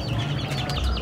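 Chickens and chicks clucking softly at close range, a steady low farmyard murmur with one brief sharper call at the end.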